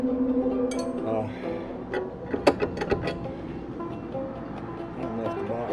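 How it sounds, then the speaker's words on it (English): Metal wrenches, a box-end and an open-end, clink and knock together in a few sharp bursts while a person talks alongside a steady room background. "I've got two wrenches here. I've got a box end and an open end."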